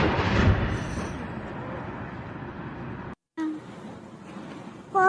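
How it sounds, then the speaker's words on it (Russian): During an attack on Kyiv, a loud blast-like roar fills the opening and rumbles on as a sustained broadband wash. It is cut briefly, then returns with lower distant rumble. "Вот сегодня город Киев. Гремит взрыв."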